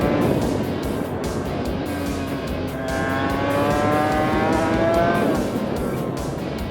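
A Suzuki RGV 250 two-stroke road-legal racing motorcycle pulls hard at open throttle, its buzzing engine note rising and climbing through gear changes, loud and steady from up close.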